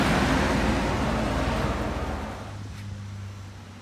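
A Volvo truck's diesel engine is switched off, its broad rumble and road noise fading away over a few seconds until only a low hum and quiet background remain.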